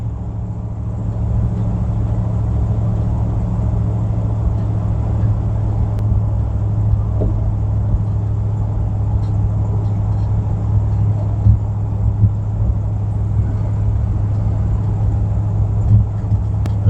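A 1961 Chevy Biscayne engine running steadily as the car is driven, a continuous low rumbling drone heard from inside the cabin for the whole stretch, with no talking.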